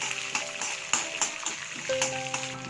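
Chana dal, urad dal, cumin, mustard seeds, green chillies and dried red chillies fry in hot oil for a Telugu tempering, giving a close, steady sizzle with small pops and crackles and a faint tonal hum underneath.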